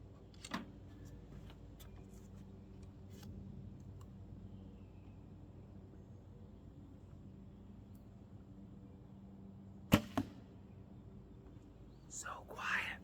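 A quiet traditional bow releases an arrow with a single soft, brief snap near the ten-second mark, set against faint outdoor ambience with scattered small clicks and a low whispered voice near the end.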